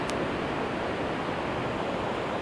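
Ocean surf rolls steadily onto the beach at Jaco, Costa Rica, a continuous broadband wash of breaking waves with no pauses, fairly loud and close, with no voices over it.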